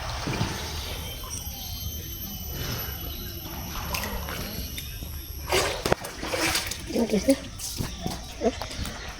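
A person dives into water during a 100-taka swimming contest, a splashing burst near the midpoint followed by smaller sloshes, under outdoor voices and background noise.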